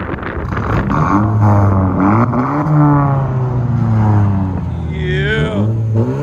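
A Camaro with a modified exhaust revs hard, its deep rumbling engine rising and falling in loud, close pulls.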